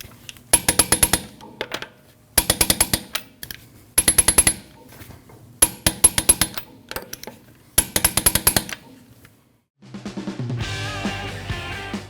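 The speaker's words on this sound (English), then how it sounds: "You want to torque your lug nuts down to 100 foot-pounds in a star pattern." Lug nuts being tightened on a 2013-2019 Ford Escape wheel, heard as five evenly spaced bursts of rapid metallic ratcheting clicks with short pauses between, followed by a different steady sound at the end.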